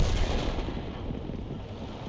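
A single heavy tank cannon shot in War Thunder, with a loud boom that fades into a rumbling decay.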